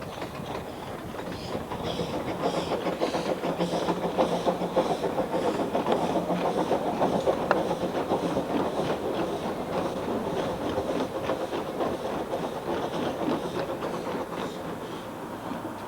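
A Llanberis Lake Railway train runs along the lake shore, giving a continuous moderate rumble with rhythmic wheel clatter throughout, steady and unbroken, with no voices.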